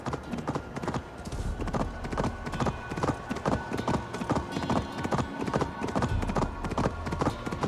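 Horse hooves clip-clopping at a steady walking rhythm in Assassin's Creed Valhalla, close and clear, with a faint voice now and then in the background.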